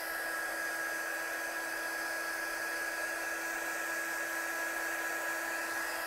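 Steady, unbroken whir of a heat gun warming embossing powder on a craft card, a constant blower drone with a high tonal whine, close and fairly quiet, with no speech.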